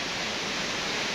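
Tad Yuk Suea waterfall in southern Laos rushes in a steady, dense, broadband roar, constant and fairly near, with no voices over it.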